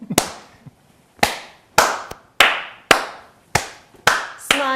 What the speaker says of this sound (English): So you're passing the clap, not the disease, just a game.